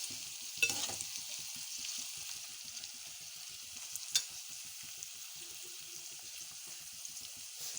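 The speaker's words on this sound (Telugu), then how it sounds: "ఇప్పుడు దోరగా వేపాలి" Bitter gourd (kakarakaya) frying in a generous amount of oil, a steady close sizzle with regular scraping stir strokes and a couple of sharper clinks.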